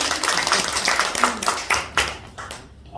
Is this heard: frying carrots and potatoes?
no